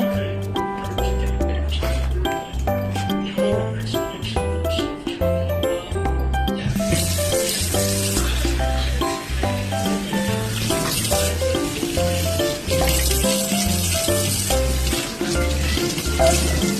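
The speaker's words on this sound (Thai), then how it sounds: "อ่าล้างเสร็จแล้ว ล้างน้ำเปล่า ล้างน้ำเปล่า" Plain tap water runs into a sink for rinsing, starting as light drips and then becoming a steady, close rush of flowing water, with background music and voices.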